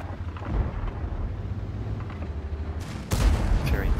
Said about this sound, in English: Fury puts another shot into the T32 and he's almost one shottable